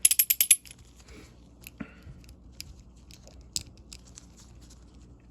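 A Walden 1151RB round-head ratchet with a loose retention ring gives a quick burst of sharp metallic clicks and rattles up close, then only a few scattered faint ticks in near quiet.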